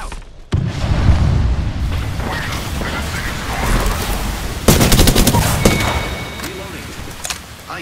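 Gunfire in the shooter game Apex Legends: a loud blast, then rolling battle noise and a sharp burst of rapid automatic shots midway, with further shots trailing off near the end.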